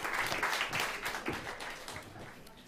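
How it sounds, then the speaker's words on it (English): A live audience gives a round of applause for food and agriculture panelists, a dense, steady wash of many hands clapping that fades slightly toward the end. "so give them a round of applause, please."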